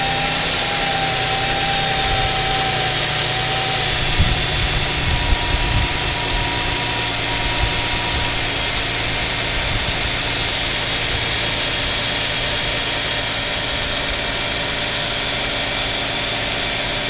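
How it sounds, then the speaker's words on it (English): A 2008 Dodge Charger's 2.7 liter engine with 83,960 miles, running at an auto salvage yard: a steady, even idle hum that carries on alone without a break. "I have the motor running now."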